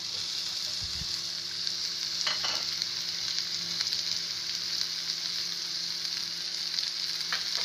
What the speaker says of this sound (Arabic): هشوح الفلفل بس كده ايه يعني تشويحة بسيطة كده